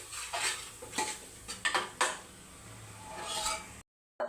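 Chana dal frying in a pan while a metal spoon stirs and scrapes it, giving several sharp clinks and scrapes over a soft sizzle, close and moderately loud, then a brief silence.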